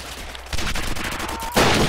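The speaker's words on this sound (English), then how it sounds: "Semi-automatic, looks like a, SVT-40 or something." Gunfire from a semi-automatic rifle, an SVT-40 in a Roblox World War II game: several loud, close shots in a rapid cluster with one sharp burst at the end, and no talk over them.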